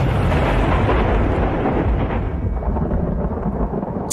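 Thunder from a storm in the video game Mimic Book II rolls loud and close, a long, heavy rumble that fades slightly toward the end.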